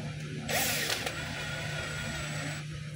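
A screwdriver drives screws into the plastic transmission housing of a DeWalt DCD796 18V cordless drill, producing a close, steady ratcheting mechanical whir for about two seconds against a quiet background hum.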